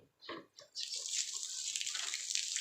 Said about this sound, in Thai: น้ำพุ่งไปแล้วครับโอเคนะครับสำหรับการทดสอบ วาล์ว น้ำหรือว่าก๊อกน้ำผสมสำหรับอ่าง